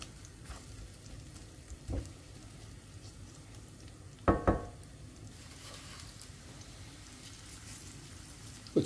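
Onion frying in oil in a pan, a quiet steady sizzle with a few louder stirring clatters and scrapes breaking through now and then.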